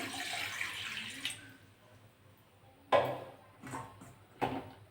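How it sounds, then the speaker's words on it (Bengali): Water pours into a kadai pan on a gas stove, a soft splashing wash at the start that fades out, followed by a few sharp clinks and taps of the pan. "কড়াটা বসিয়ে দিলাম জল দিয়ে দিলাম"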